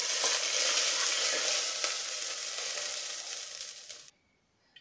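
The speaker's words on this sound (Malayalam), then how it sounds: "എന്നിട്ട് നമുക്കൊന്ന് ഇളക്കി കൊടുക്കാം." Whole spices sizzle and crackle loudly in hot oil in a pan as they are stirred for beef biryani, a steady close frying hiss that cuts off abruptly near the end.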